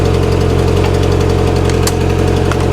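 Polaris Slingshot R engine idling close up with a steady, rhythmic ticking from an exhaust leak just below the catalytic converter, loud and continuous with no talk.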